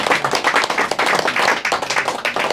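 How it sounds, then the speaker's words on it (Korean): A gathering at a senior citizens' forum gives a round of hand clapping, a brisk rhythmic patter of many hands at moderate loudness with no talk over it. "감사의 박수를 드리고"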